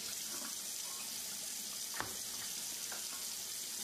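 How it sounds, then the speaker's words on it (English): Tap water runs steadily into a cooking pot being rinsed in a kitchen sink during Nigerian party jollof rice preparation, a constant close splashing hiss with a faint clink partway through. "I'll rinse it out."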